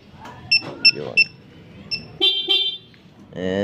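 Three quick high electronic chirps in a row from a Yamaha Sniper 150 MXi motorcycle locator alarm, then a pause, one more short chirp and a longer two-part tone, with a voice starting at the end.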